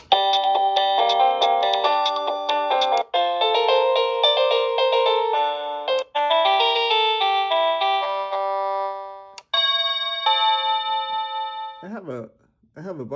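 A wireless doorbell cycles through several electronic chime tunes, ringing tones following one another in quick succession, loud and close, before a voice speaks briefly at the end.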